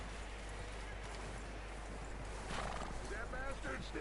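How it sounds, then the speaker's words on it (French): A horse in the video game Red Dead Redemption 2 whinnies and neighs over a steady low background hum, with clip-clop hoofbeats, and a voice speaks softly in the background. "Mener le cheval vers le porte-attache."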